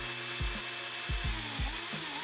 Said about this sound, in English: I use a wire brush just to buff it up prior to priming